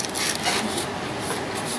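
Fine sandpaper rubs around the blackened rotor shaft of a Maspion desk fan, a close, light, continuous scratchy rasping with slight rhythmic swells as the paper is turned, and no talking.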